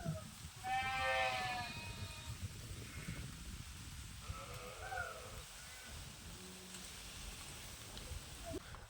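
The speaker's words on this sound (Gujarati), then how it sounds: "હવે ઘેટા બકરાએ સરી લીધું" A flock of sheep and goats on a farm bleats, a clear nearby bleat first, then fainter scattered calls over steady outdoor background noise, with a crow cawing faintly.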